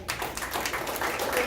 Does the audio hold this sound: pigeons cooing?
no